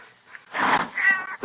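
A single loud, drawn-out cat meow with a wavering tail, close and alone, used as a sound effect in an old radio crime drama.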